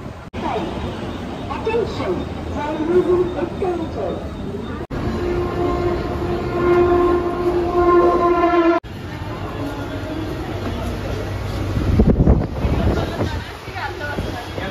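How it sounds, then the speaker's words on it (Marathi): A Mumbai local train from Goregaon rumbles along steadily with wind buffeting the microphone, and a loud horn blares partway through, as the train carries riders toward CST. "9:15ची लोकल आपण आता पकडलेली आहे."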